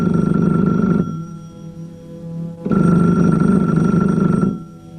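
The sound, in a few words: telephone bell ringing, radio play sound effect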